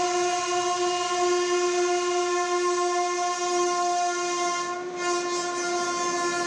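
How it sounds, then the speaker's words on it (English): The Oxygen Express, an Indian Railways train, sounds a long, loud, steady horn blast that holds throughout, with no talk over it. "This is not a regular train. This is Oxygen Express."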